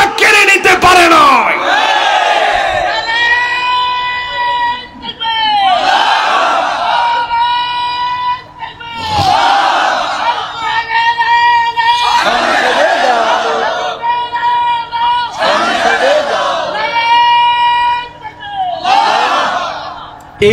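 A large crowd at a religious gathering chanting the Nara-e-Takbir slogan in loud, repeated call-and-response bursts, each roaring shout spaced a few seconds apart, close and echoing.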